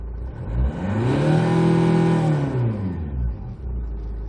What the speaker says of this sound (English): now let's try to accelerate and check out the RPMs plus the sound of the engine